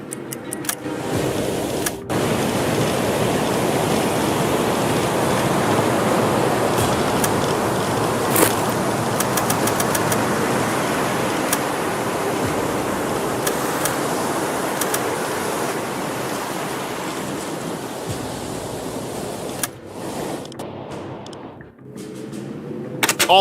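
A submarine's engines run at dead slow ahead in the UBOAT game, making a steady, dense mechanical rumble and hiss that drones on for over twenty seconds, with brief cutouts and faint clicks near the end.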